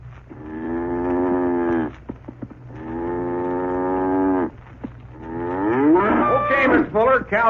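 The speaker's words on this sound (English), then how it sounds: "Cow's bedded down for the night." A cow bedded down for the night lets out three long, loud moos, each one drawn out, with the last rising and wavering in pitch, close by and with no talk.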